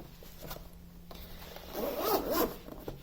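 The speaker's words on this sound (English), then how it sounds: "so you can zipper this up however you like" A zipper is drawn along a magician's organizer case in a few quick, close pulls with rubbing between strokes, the longest rasping run near the end.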